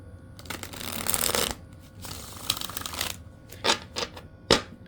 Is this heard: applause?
no